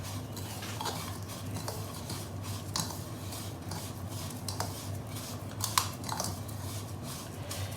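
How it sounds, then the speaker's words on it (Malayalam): A spoon mixing sugar in a bowl for a no-bake chocolate coconut roll: quiet, continuous scraping and clinking, with a few sharper taps, close up and without talk. "ഇത് ആദ്യം ഒന്ന് ചെറുതായിട്ട് മിക്സ് ചെയ്യാം."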